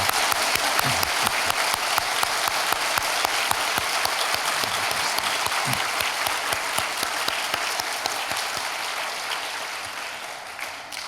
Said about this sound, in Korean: 우리 숭실대학교에서 오신 귀한 분들을 위해서 한번 환영의 박수를 하도록 하겠습니다